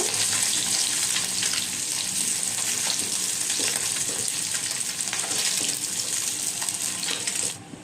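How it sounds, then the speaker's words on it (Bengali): Katla fish pieces fry in hot oil in a wok, giving a continuous loud sizzle with crackling bubbles and light scrapes as they are turned, heard close up with no voices. "এখন উল্টে দিচ্ছি, উল্টে পাল্টে লাল লাল করে আমি ভেজে নেব।"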